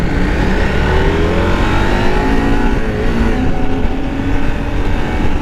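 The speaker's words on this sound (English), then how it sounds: "So I chose the adventure style bike because it's something I've never ridden before." KTM adventure motorcycle pulling away at a street demo day, its mid-pitched engine droning steadily and loudly close by, revving slightly as it rides off, with constant wind and road noise and no talking.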